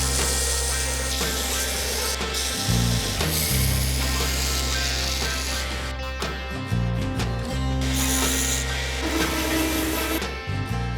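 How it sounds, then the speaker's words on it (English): Knife handle scales are ground on a machine, giving a steady mechanical hum and whine with repeated shifts in pitch as the workpiece is pressed on and eased off, close and continuous. "I'm gonna start grinding on mine."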